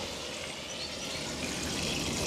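Hot water runs steadily from an artesian well tap, a constant broadband rush with no pauses, close and moderately loud, heard on its own.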